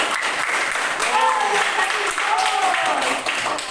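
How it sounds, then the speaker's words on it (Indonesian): A classroom of students applauds for a group, a steady patter of many hands lasting a few seconds, with voices mixed in over the clapping. "Tepuk tangan untuk kelompok"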